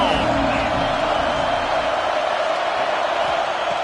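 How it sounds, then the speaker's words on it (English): A football stadium crowd roars steadily throughout, a dense and continuous wash of cheering with no clear breaks. "This crowd ready to make its presence known."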